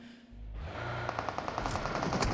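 Gunfire in the PUBG Mobile video game at a league finals match, a rapid burst of evenly spaced automatic shots cracking close and loud.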